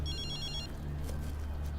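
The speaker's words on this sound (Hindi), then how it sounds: "फोन नहीं उठाना, इसमें बम है।" A mobile phone rings briefly with a bright repeating electronic tone over a low rumbling background, fading out partway through.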